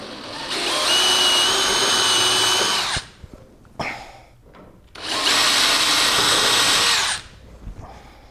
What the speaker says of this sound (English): all I got to do now is ream those other holes out